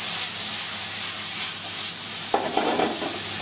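Salmon sizzles hard in a hot frying pan as a steady close hiss, then a sudden scraping jolt and rattle partway through as the pan is tossed.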